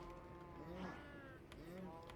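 Blocky cows in the Minecraft video game give drawn-out lowing moos, two overlapping calls swelling and fading over a steady game background, with no talking.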